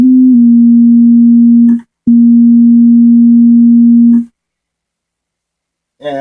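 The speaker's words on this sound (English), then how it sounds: "And we get sine wave, which we can tune with the VCF cutoff control." A semi-modular synthesizer's resonant filter self-oscillates into a pure, loud sine tone, heard as two sustained steady notes broken by a short gap, then a brief different sound at the end.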